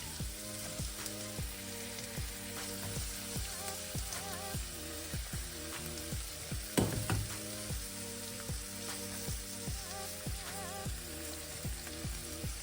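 Onions, capsicum, carrots and chopped cabbage fry in a pan with a soft continuous sizzle, quiet and close, while steady background music plays underneath.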